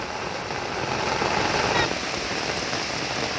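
Heavy rain pouring down steadily during fishing outdoors, a dense broadband wash of drops with a slight swell midway, continuous and close, with no voices.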